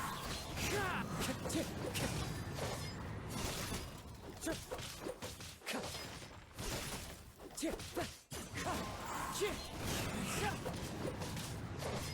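Dense, chaotic combat effects from Genshin Impact fill the scene during a wind strike attack: overlapping whooshes, cracks and shattering hits roll on continuously and close.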